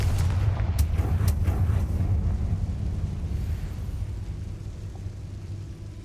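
Confringo blasting spell going off in Hogwarts Legacy, a few sharp cracks at the start over a deep rumble that slowly fades away, with no voices.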